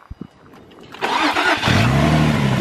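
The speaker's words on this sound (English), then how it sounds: "Engine purring." An Infiniti G35 engine cranks with a few sharp turnover bursts, catches with a loud surge, then settles into a strong, steady idle close by.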